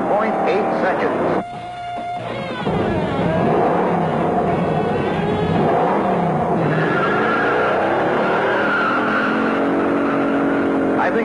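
A 1969 Dodge Charger 500 with a 426 Hemi and TorqueFlite automatic launches hard off the line, its engine roaring loudly and rising in pitch, with tires squealing, for about eleven seconds; someone talks over it throughout.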